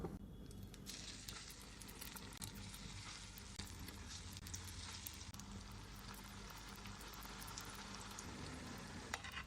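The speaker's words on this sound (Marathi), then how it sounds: "तर आता आपण ह्या टिक्कीज शॅलो फ्राय करणार आहोत." Sweet corn tikkis shallow fry in oil in a pan over a low flame, giving a faint, steady crackling sizzle throughout with no voices.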